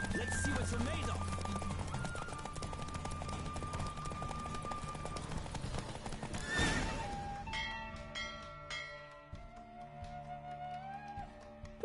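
Horses in a race within The Witcher 3 video game give a loud whinny over game music and ambience, with hoofbeats running beneath and a voice speaking briefly.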